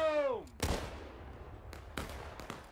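Musket shots crack across a War of Rights battlefield: one loud near report, then scattered further shots at irregular intervals, with a falling shouted voice at the start.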